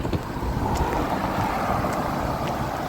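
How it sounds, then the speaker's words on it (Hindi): Heavy rain falls near a quiet railway track in Canada, making a dense, unbroken roar of close, fairly loud noise with no one talking. "और बारिश जो है वो तेज़ हो गई है इस वक्त।"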